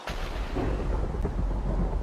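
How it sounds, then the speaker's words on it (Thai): Rumbling thunder and steady rain from a thunderstorm in the Minecraft video game, a dense low roar that stays loud for about two seconds with no voices. "ฝนฟ้าคะนองนี่เอง"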